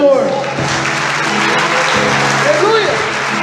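Congregation clapping together during a church worship service, a dense steady wash of applause running throughout, mixed with singing or music underneath.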